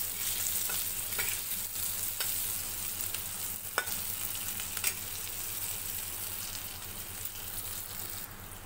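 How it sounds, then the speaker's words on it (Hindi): Whole chili peppers fry in a pan with steady, dense sizzling that stays even throughout, broken by a couple of faint pops and light stirring sounds, no voices. "मैंने मिर्चियों को फ्राई होने के लिए डाल दिए।"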